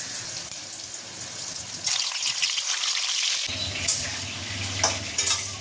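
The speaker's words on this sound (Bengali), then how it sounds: "এবার চিকেনগুলোকে একটা একটা করে ফ্রাই করে নেব।" Chicken pieces frying in hot oil in a kadai, a steady close sizzle with a brief lull midway, then renewed crackling and a few sharp spatters near the end.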